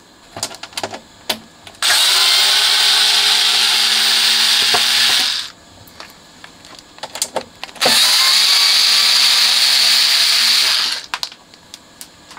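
A power screwdriver removes the screws from the bottom cover of a 1979 Technics RS-M17 tape deck. It whirs loudly in two sustained runs of about three and a half seconds each, separated by quieter clicks and handling taps.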